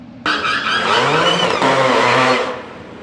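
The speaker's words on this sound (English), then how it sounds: "Car may not be running very well, but I'm gonna send it." A supercharged Audi B8 S4 running poorly bursts into a loud, close launch at a quarter-mile drag strip, its whining roar climbing in pitch before easing off.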